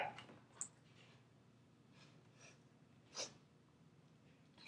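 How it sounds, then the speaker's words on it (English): Close, quiet nasal sniffles and snorts, several short bursts spaced across a few seconds against a faint background hum. "Sniffles, man, sniffles."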